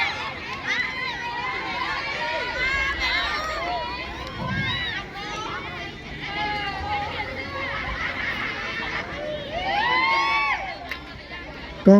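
Spectators at a village men's football match between Ban Hin Khon and Ban Salaeng Phan cheer and chatter, with whistles and a loud commentator talking throughout. Crowd noise swells near the end.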